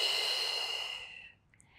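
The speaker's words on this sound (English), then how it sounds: "Exhale." One long, soft exhale during a gentle Pilates mat exercise, breathy and close, fading out after about a second and a half.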